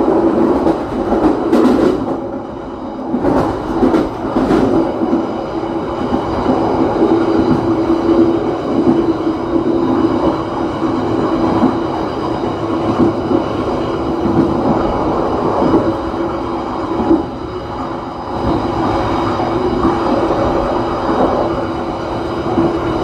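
A passenger train runs straight through Klakah station in Lumajang on the Surabaya–Banyuwangi line, a loud continuous rumble heard from aboard with a rhythmic clickety-clack of wheels over rail joints and brief metallic squeals near the start.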